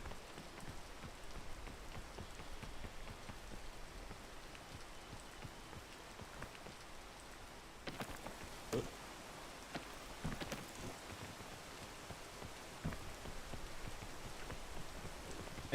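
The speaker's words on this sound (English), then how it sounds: "I really need there to be less rain." Steady rain falling in the mountain-climbing video game Peak, a dense, even patter of drops on surfaces with a few sharper ticks, continuous and fairly faint, with no voices.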